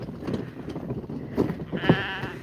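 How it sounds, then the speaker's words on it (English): Sheep and wethers in a farm corral bleat a few times in short, fairly close calls over a low murmur of background noise. "It's so great to see this corral full of sheep again"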